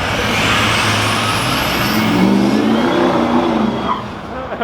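A 6.0-litre car with flames and a Superman symbol drives past on a street in Daytona, Florida during Rolex 24 race weekend, its steady loud engine roar filling the whole stretch as it passes close by.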